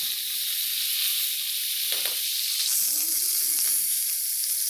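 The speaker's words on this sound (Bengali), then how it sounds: "মাছ গরম তেলের মধ্যে আবার দু পিস মাছ আবার দিয়ে দিলাম" Tilapia fish pieces frying in hot oil give a steady, close, crackling sizzle throughout, with a few small spits and stirring sounds and no talking.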